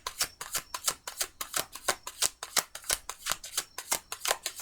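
Large tarot cards being riffled and shuffled by hand, a steady run of crisp papery flutters and slaps repeating roughly every quarter second, close and clear with no talking.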